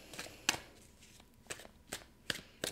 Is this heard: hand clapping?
no